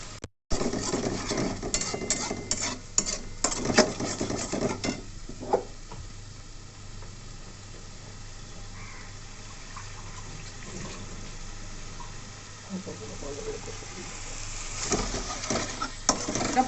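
Spoon stirring and scraping spices with ginger paste, garlic paste and turmeric sautéing in a pan for alu matar, a busy clatter of strokes at first, then quieter sizzling and occasional scrapes, close but faint.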